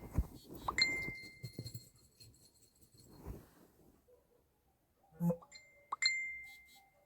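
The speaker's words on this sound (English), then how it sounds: "I've got the doggy. Listen to his bells. There's his bells." Small metal bells on a dog jingle in short bursts, close by, with quieter shuffling and faint movement between the bright tinkling clusters.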